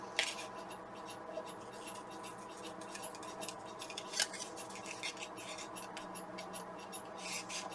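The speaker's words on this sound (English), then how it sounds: "I'm just going to trim that off, peel off any of the extra sticky that I didn't need" Scissors snip and scratch steadily through paper while trimming the edge of a paper frame for a scrapbook layout, with a quiet, close, rhythmic rasping and a couple of slightly sharper cuts.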